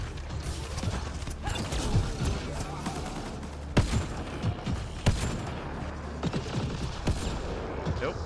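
Dense Mass Effect Andromeda multiplayer firefight: continuous rattling gunfire and clanking mechanical noise throughout, with a few sharper louder shots standing out, busy and fairly close, no clear talk.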